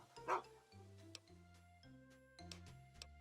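A dog in the video game Fallout 3 gives a short yelping bark early on, then soft whimpers over a sustained game music bed, with no talk.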